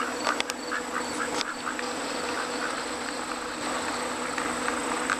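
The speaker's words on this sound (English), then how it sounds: "Silly ducks." Ducks on the grounds of Hillbrook Inn in Charles Town, West Virginia, give a few short, nasal quacks early on, over a steady outdoor buzz of insects.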